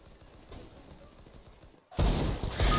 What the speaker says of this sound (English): That was a shot through the wall.